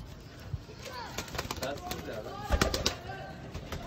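Pure breeder Chapray pigeon chicks coo softly in a loft, low murmuring calls under someone speaking nearby, with a few brief wing flutters and scuffles.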